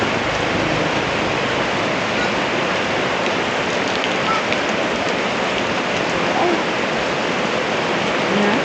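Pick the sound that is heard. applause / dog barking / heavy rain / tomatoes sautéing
heavy rain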